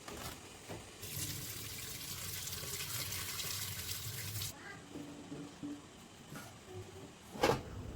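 Running tap water washes fresh ripe chilies, a steady broad rush for several seconds that then cuts back to quieter trickling and handling noises, with a brief louder splash near the end.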